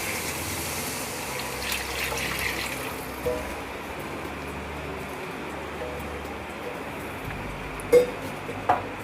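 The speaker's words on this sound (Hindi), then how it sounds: "अब इसमें हम पानी ऐड करेंगे।" Water poured into a soup pot on a gas stove while making veg hot and sour soup, about four cups going in as a steady, moderate gush with a few faint clinks near the end, no talk.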